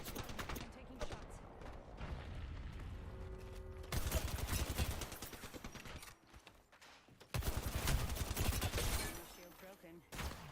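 Shooter video game gunfire crackles in repeated bursts, fairly quiet and mixed with game effects, while a player talks over the action.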